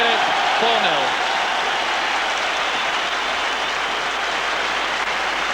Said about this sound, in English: And now Peter Weir departs to great applause all around the stadium